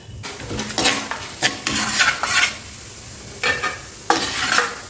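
Chana dal, urad dal and mustard seeds sizzle and crackle in two spoons of hot peanut oil in a kadai, with bursts of spattering and a spoon stirring and scraping against the pan, close and fairly loud.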